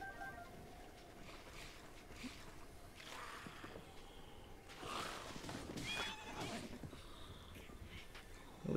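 A horse whinnies in The Legend of Zelda: Breath of the Wild while the horse is on fire, a fairly faint neigh and snort under steady game background noise.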